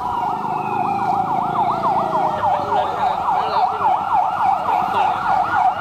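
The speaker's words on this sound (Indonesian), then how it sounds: "mobil pemadam kebakaran telah memasuki lapangan" A fire truck siren wails in a fast, repeating up-and-down cycle, loud and close, over a low engine rumble, as the truck enters a field during a disaster-response drill in Aceh Singkil, Indonesia.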